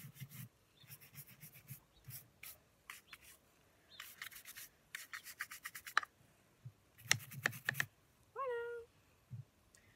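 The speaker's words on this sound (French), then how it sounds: "je viens frotter mes étriers pour bien les nettoyer" Horse-riding stirrups being scrubbed clean by hand, giving bursts of brisk rubbing and scratching strokes in uneven runs, close and fairly loud, with short pauses between sets and a cat meowing briefly near the end.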